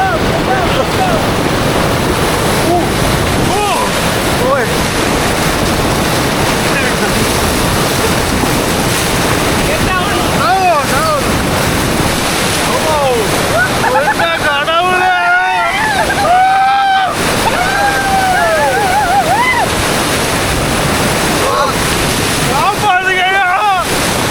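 Rushing river water roars around a raft at Kitulgala during white-water rafting, a loud continuous surging wash with heavy wind buffeting the microphone, as people shout and talk excitedly over the torrent.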